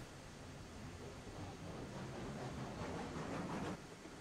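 A train rolls along in the railroad game Railroads Online, a steady broad rumble and hiss of wheels on track at an even level, with no speech.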